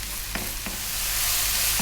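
Mushrooms being stirred and sautéed in a pan give off a dense, close sizzle with a couple of quick spoon scrapes, and the hiss swells louder toward the end.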